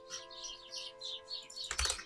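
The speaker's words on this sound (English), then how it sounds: "You can hear the birds in the background." Birds chirp outdoors on an early spring day in quick, faint, repeated tweets under a steady electronic hum, with a brief clatter near the end.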